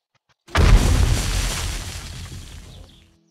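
A grenade in the video game 7 Days to Die detonates with a sudden heavy boom, then a long rumbling decay that fades out over a few seconds, standing alone without talk.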